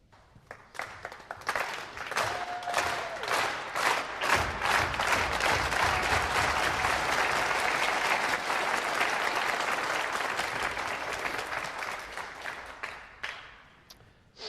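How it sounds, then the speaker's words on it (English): A crowd at a pool tournament in Poland claps as one, the rhythmic applause swelling loud and steady before thinning out, with no talking over it. "The distinctive sign of appreciation by this Polish crowd. The slow hand clap here means something completely different to what it does in Britain."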